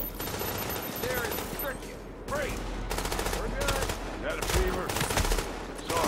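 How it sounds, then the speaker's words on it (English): Gunfire bursts from the shooter video game Tom Clancy's The Division, loud and fairly continuous with repeated shots in clusters, mixed with game sounds and some talk. "What, where am I even getting shot from?"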